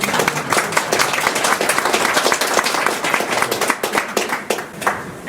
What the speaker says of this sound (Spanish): Por favor, un aplauso para ellos.